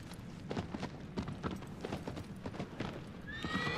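A horse galloping in the video game Shadow of the Colossus, close rhythmic hoofbeats clip-clopping steadily with a whinny near the end, loud and clear without talk.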